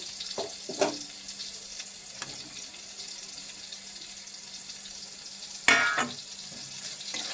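Pieces of pointed gourd (potol) fry in a pan with a low, steady sizzle, broken by a few clattering knocks and a sharper scrape of stirring, heard up close without speech.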